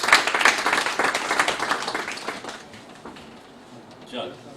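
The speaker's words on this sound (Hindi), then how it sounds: "ज़ोरदार तालियों से इस्तकबाल कीजिए" Audience applause welcoming a poet at a poetry gathering, brisk clapping that starts strong and fades out after about three seconds, followed by a brief voice.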